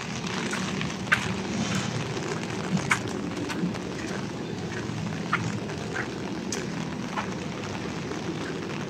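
Heavy rain falling on the covered walkway of the Pasig River Esplanade in Manila, a steady broadband hiss with occasional louder drips and taps, continuous and moderately loud with no talk.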